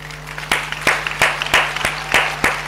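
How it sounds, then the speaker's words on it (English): A church congregation claps in a steady beat, about two strong claps per second that ring through the room over a low constant hum. "Why are you not clapping?"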